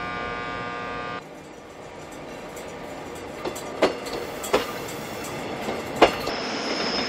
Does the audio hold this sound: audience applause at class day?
no